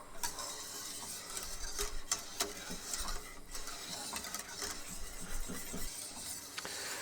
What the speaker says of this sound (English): Slowly mix to start with.